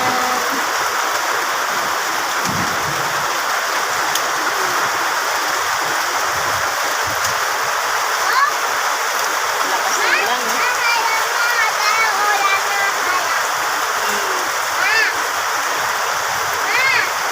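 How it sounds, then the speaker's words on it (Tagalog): Steady heavy downpour of rain, a continuous loud hiss with splashing, lasting throughout with a voice speaking now and then. "Lakas ng ulan, no? Lakas ng ulan."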